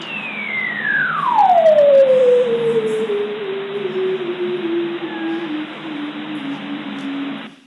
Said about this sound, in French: C'est un son de Star Wars, mais c'est le son de reproduction du phoque barbu.